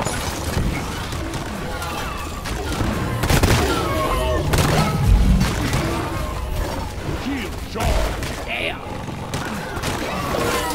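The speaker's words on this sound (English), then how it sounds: "Why are you shooting at me?" Constant gunfire and mechanical clatter in the co-op mining shooter Deep Rock Galactic, a dense, busy mix of rattling shots and thumps with an occasional low boom, while players shout over it.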